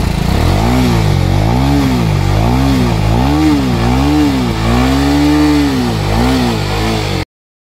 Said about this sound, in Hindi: इसकी एग्जॉस्ट साउंड काफी लाउड है